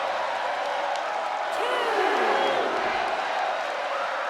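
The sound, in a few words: wrestling arena crowd cheering in video game WWE 2K23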